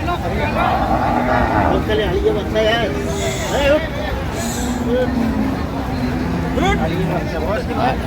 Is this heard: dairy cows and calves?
yes